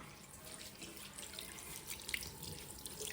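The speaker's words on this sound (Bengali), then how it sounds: "মাটি দিয়ে মুখ ধোয়া ভালো" Water running from a tap while a face is washed, a faint continuous splash and trickle with small drips, no talking.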